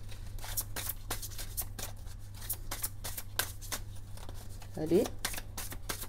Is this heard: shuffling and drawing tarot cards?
yes